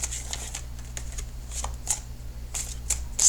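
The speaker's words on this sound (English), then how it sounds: "I will lay out the rest of the cards if they would just cooperate" Tarot cards are shuffled and laid out in a quiet room, giving soft papery rustles broken by several crisp, short snaps and flicks, with the last one loudest.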